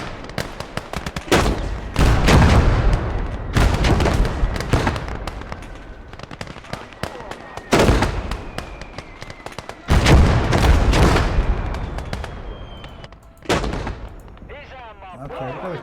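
Gunfire and heavy mortar blasts in the war game Blood Red Snow, with repeated loud booming impacts and sharp shots in irregular bursts, rumbling tails between them, and a whistling shell near the end.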